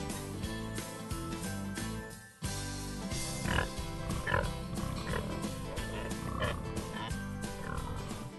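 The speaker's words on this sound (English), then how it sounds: "Here, look, these are beautiful pigs." Berkshire pigs on a farm grunt in repeated short bursts that sit over steady background music, fairly close and mixed into a busy soundtrack.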